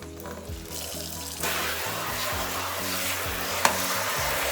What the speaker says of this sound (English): You can hear the fajitas in the background. They're almost done.